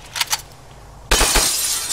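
Window glass smashed with a rifle stock in a shooter video game: two short knocks, then a loud sudden shatter with tinkling shards spilling for nearly a second.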